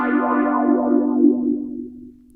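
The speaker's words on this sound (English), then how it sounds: "So the entire sound gets filtered." A buzzy, sustained Omnisphere synth tone run through a sweeping power filter, its brighter overtones gradually stripped away until only a low, steady hum remains.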